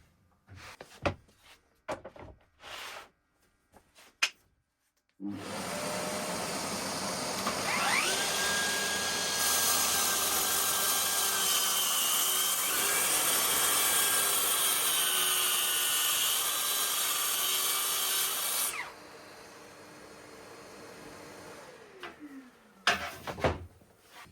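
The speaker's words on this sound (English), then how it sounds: "And I'm using these to space the rail away from the edge, and then I can make the first cut." A saw cuts a wooden door rail for a trim-router Shaker door: handling knocks first, then the motor spins up into a loud, steady whine with a brief rising cutting pitch, running about thirteen seconds before winding down among more workshop clatter.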